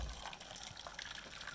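Just-boiled water pours in a steady, gushing stream into a container for making yogurt, splashing softly throughout with no talking.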